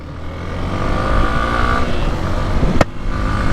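Motorcycles on a group ride to Murudeshwar rumble and rev at close range, a steady, loud engine drone with a brief sharp click near the end.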